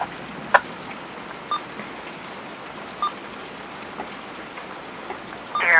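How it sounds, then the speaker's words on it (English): Heavy thunderstorm rain in Pittsfield, Massachusetts, a steady dense hiss of downpour with a few brief sharp ticks and a swell in intensity at the end; no one speaks. "another round of heavy rain is moving into the warned area."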